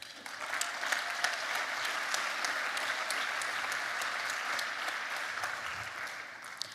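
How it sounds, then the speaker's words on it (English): An audience at the ZeroCon24 award ceremony claps in steady, sustained applause, a fairly soft and even wash of hand claps. "A huge round of applause."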